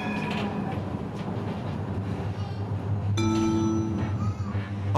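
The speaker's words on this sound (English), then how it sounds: "Let's head back to the tram and travel westwards." Amsterdam tram rolling along its line, a steady low rumble with rail clatter and a brighter tonal whine rising midway, continuous and fairly close throughout.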